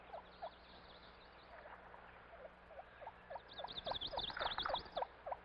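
Wild turkey hen and poults call outdoors, a series of soft, rising peeping notes repeating in a loose rhythm, growing busier and more overlapping toward the end, faint and fairly close with a quiet background.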